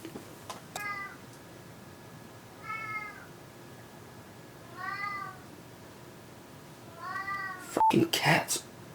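A cat meows several times at a steady pace, each call clear and fairly close, followed by a sharp click and a short burst of noisy rustling at the end, with no talking.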